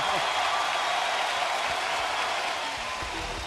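Basketball arena crowd roaring in a steady, loud wash of cheering and applause at a college game between Oklahoma State and Texas Tech, sustained throughout with no pauses.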